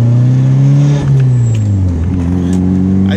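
A Nissan 240SX with a turbocharged KA24DET engine and MegaSquirt tuning accelerates hard on a street, its loud engine note rising, dipping briefly as it flat-shifts without the clutch released, then climbing again.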